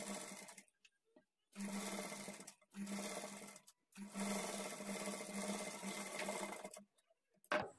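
A sewing machine runs in several bursts, stitching along the lining edge of a blouse, each whirring run stopping abruptly with short silent gaps between, close and steady.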